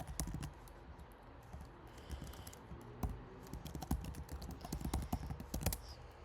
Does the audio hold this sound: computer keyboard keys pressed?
yes